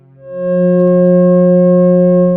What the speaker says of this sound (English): They are F sharp and its perfect harmonic fifth of C sharp.